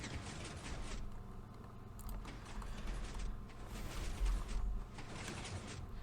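Minecraft 4x4 piston door cycling open and shut in the video game, a run of mechanical clunks and sliding thumps repeating in bursts over a steady low hum.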